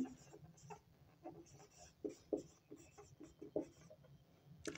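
Chalk or marker writing on a board during a NEET biology lecture on blood composition, a series of quiet, closely spaced taps and short scratchy strokes in an uneven rhythm.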